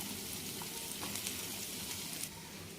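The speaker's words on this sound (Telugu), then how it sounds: "ఇప్పుడు దీంట్లోకి సన్నగా కట్ చేసి పెట్టుకున్న క్యాబేజీని కూడా వేసుకొని ఈ విధంగా కలుపుకోవాలి" Thinly cut cabbage frying in a pan for a moong dal cabbage curry, giving a steady, close sizzle with soft scraping and stirring throughout.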